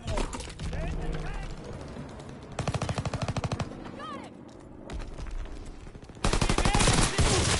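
Thompson submachine gun in a World War II game firing several sharp, rapid bursts, loud and close, separated by short gaps with background battle noise; the final burst is the longest and loudest.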